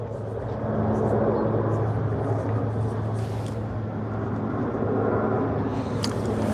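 Airplane flying overhead near a boat on the water, a broad steady rumbling roar that holds throughout, loud and diffuse, with a few faint knocks on board.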